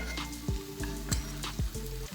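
Lamb chops sear in a hot pan with a steady, close sizzle, broken by several sharp knocks and scrapes as they are turned and pressed; no one speaks.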